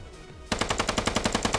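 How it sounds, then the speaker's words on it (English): Rapid automatic gunfire from the video game Squad, about a dozen sharp, evenly spaced shots in a loud, close burst following a quiet moment. "He's shooting."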